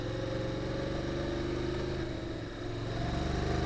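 Honda DCT motorcycle engine shifting up through the gears on a road, a steady loud mid-range drone with a brief dip in tone partway through, then building again.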